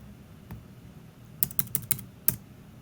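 Computer keyboard typing at a desk: a lone keystroke, then a quick burst of five or six crisp clicks and one final tap, close and clear in a quiet room.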